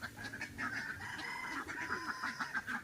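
On a backyard farm, a rooster crows and clucks loudly close by among other fowl, including geese and Pekin ducks, with a steady run of bird calls throughout.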